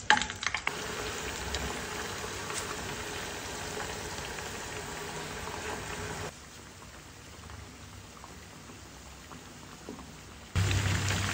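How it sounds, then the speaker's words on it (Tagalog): Potato patties frying in oil, a continuous crackling sizzle close by that drops to a quieter simmer midway before swelling again near the end, with no talking. "So, magprito na tayo mga kamamsi."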